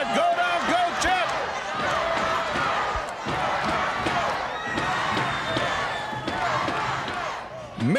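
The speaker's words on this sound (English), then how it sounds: "Listen to our crowd with a go down," A wrestling arena crowd at a Mid-Atlantic Championship Wrestling match roars and cheers steadily for the full stretch, with shouts and sharp slaps rising out of the dense, loud din.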